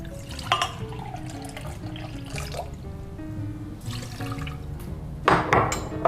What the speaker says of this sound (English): And we add half cup of water to that